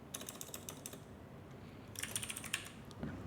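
Rapid typing on a computer keyboard, close and fairly quiet, with a steady run of clicky keystrokes, a short lull, then another burst of keys.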